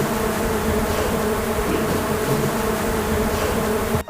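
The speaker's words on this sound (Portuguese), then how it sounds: "Ao mexer nos enxames, o zumbido aumenta ainda mais." Stingless bees swarm around their hives in a rural housing estate, a loud, dense, continuous droning buzz with layered hum tones, close to the microphone and uninterrupted until a brief knock at the very end.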